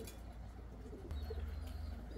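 Soft, low cooing from a flock of white pigeons, heard close and continuous with a faint rustle in the background.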